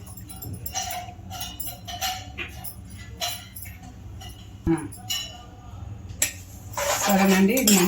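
Curd being mixed in a bowl, with spoon clinks and scraping against the dish coming in bursts, closer and busier toward the end, while a voice talks over it.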